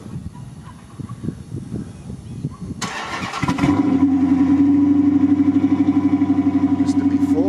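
A 5.7 V8 car engine on its stock exhaust cranks and fires up, then settles into a loud, steady idle with a throbbing pulse; indistinct background noise precedes the start.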